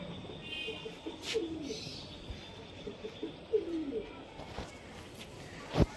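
A male blue kamagar pigeon coos in soft repeated phrases at close range, with faint chirps and a sharp tap near the end against a quiet outdoor background.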